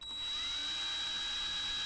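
A handheld power drill whirs up and spins steadily, its bit marked with a blue Sharpie line, a close, high, even whine that holds for about two seconds without speech.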